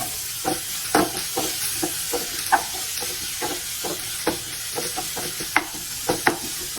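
Onions and chopped chili frying in a pan for Kerala-style chicken sausages, stirred with frequent rhythmic spatula scrapes over a continuous close sizzle and hiss, with no voices.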